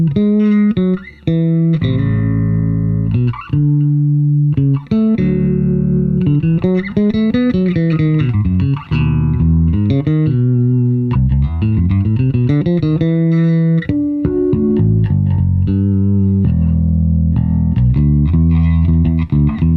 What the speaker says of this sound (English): So this is like a jazz style bass, straightforward passive, and I have both volumes up and the tone up.